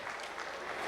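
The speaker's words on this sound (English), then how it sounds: "I think the claps did not suffice" A brief burst of steady applause from an audience at the close of a conference panel session, a dense, even wash of clapping heard from a moderate distance.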